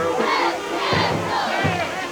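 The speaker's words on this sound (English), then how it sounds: "you can hear the Caldwell fans" Caldwell fans at a high school football game against Monroe Central roar as a dense crowd, with rising whoops and chant-like shouts swelling in waves, steady and loud from the stands.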